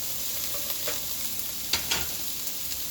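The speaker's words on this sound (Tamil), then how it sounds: "தக்காளி சேர்த்து நல்லா வதக்கிக்கலாம்" Ginger, green chilli, onion and cashews sauté in a hot pan with a steady close sizzle and a few light scrapes of stirring, with no voices.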